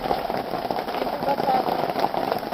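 Steady typhoon rain patters on a surface, a dense, even hiss of drops holding constant from start to finish, with no other distinct sounds.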